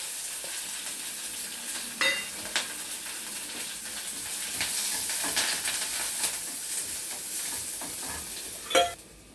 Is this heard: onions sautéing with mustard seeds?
yes